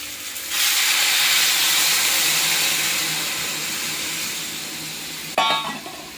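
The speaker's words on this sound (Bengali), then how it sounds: "আর দিয়ে দেবো গরম জল।" Hot water hits hot oil holding fried onion and raw banana, erupting in a loud, sudden hiss of steam that slowly fades, followed near the end by a sharp metallic clink.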